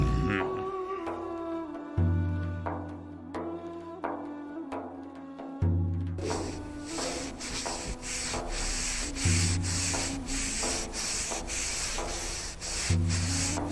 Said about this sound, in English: the Roman ones were polishing and shining the walls.